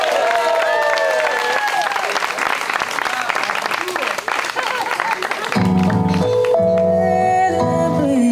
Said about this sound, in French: Place à l'ouverture de bal sous applaudissements.